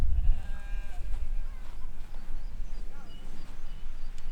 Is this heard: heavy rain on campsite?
no